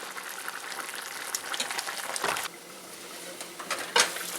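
Curry chicken sizzles and bubbles in a hot wok, a soft crackling patter with occasional louder pops; no one speaks.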